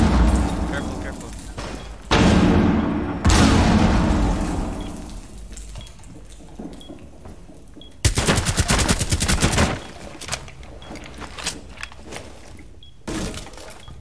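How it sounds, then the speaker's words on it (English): Rainbow Six Siege firefight: sharp bursts of automatic gunfire in several loud, close volleys separated by quieter gaps, with crashing, shattering impacts and people talking between the shots. "I shot him in the head."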